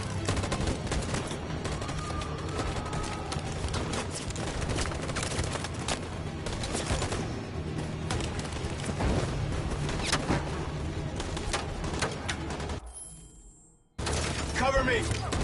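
Dense, sustained volleys of gunfire in the video game Detroit, many overlapping shots in a chaotic battle, cutting briefly to near-silence before resuming.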